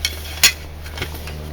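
Ridge Monkey sealed frying pans give two sharp metallic clanks roughly half a second apart, close and loud, with a faint clink at the very end.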